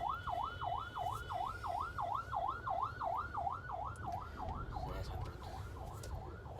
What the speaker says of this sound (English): And there comes the ambulance